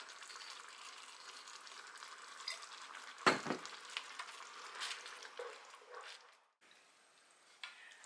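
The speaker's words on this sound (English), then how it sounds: "we're going to let this bubble a little bit until it thickens up" A gravy made with Worcestershire sauce bubbles and sizzles softly in a pan as it thickens. There is a brief stir or clink partway through, and no one talks.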